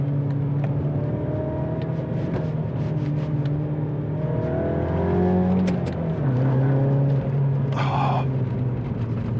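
A modified Mini F56 JCW engine revs and drops through several gear changes, rising and falling tones heard from inside the car, with a brief sharp burst near the end.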